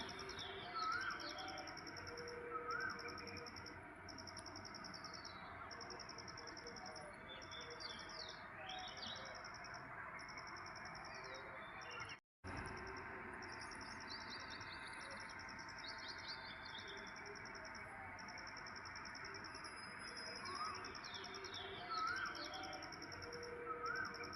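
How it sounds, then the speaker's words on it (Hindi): Early-morning birdsong with a koel among the callers: steady chirps and tweets over a constant outdoor hum, with a repeating rhythmic call pattern and occasional clearer whistled notes for the full duration. "तो यहाँ पर आपने सुनी आवाज़ें पक्षियों की। सुबह सुबह एक तो कोयल बोलती है, आजकल बड़ा मीठा बोलती है"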